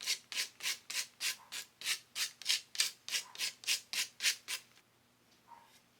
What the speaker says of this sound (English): I took the piece of sanding paper and just made sure that I cut that corner